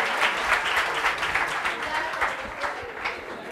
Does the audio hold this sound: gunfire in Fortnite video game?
no